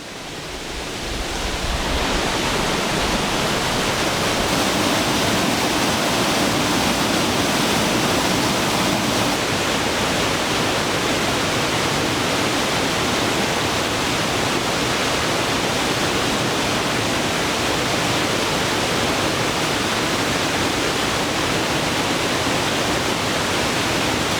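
Kesselfall waterfall in Austria, a loud, steady roar of heavily falling water that builds over the first two seconds and then holds constant as a dense broadband rush, with no voices.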